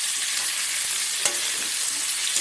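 Pork frying in a wok (kawali), a steady loud sizzle with the meat being stirred and scraped, one sharper clatter partway through, no voices.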